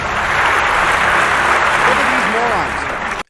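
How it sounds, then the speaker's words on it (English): An audience claps steadily at a political gathering, a broad, even wash of applause that holds throughout, with a brief voice surfacing near the end before it cuts off. "Now they're all clapping for her."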